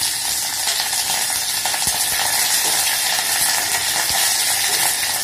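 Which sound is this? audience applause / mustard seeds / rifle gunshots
mustard seeds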